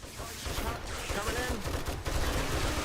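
Automatic turrets fire rapidly at a horde of zombies in 7 Days to Die, a dense, continuous clatter of gunfire with scattered impacts and no pause across the stretch.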